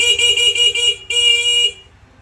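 An aftermarket Pia horn fitted to a Honda Click V3 scooter blares in two loud, bright, sustained blasts, split by a brief gap, then cuts off sharply into quiet.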